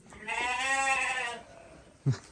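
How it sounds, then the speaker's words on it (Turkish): Lambs on a village farm bleat in one long, loud, wavering cry lasting over a second, followed by a short, sharp second call nearby. "Ha bunlar da kuzu"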